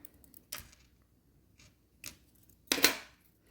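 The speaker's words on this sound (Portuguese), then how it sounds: "O meu arame aqui também eu vou cortar." Scissors snip through amigurumi yarn and wire for a crochet doll: three short, crisp cuts, close and isolated, with quiet pauses between them.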